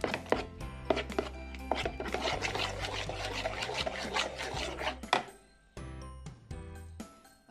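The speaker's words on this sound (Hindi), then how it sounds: "मैंने दाल ग्राइंड कर ली है। मैं इसे 2 मिनट्स तक ऐसे बीट करूंगी।" Ground moong dal batter is beaten by hand in a bowl, making steady rasping, slapping strokes up close that run continuously for several seconds before easing off, with a low tonal hum underneath.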